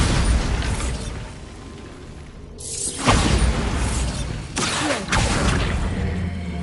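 In Hogwarts Legacy, the Bombarda spell sets off a heavy, booming blast followed by crumbling, shattering debris and a second burst, all loud and close with no talking.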